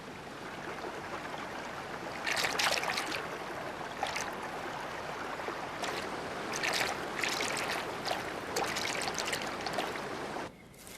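A river in a mountain habitat rushes and gurgles steadily at a moderate distance. Brief brighter splashes rise and fall over a constant watery hiss.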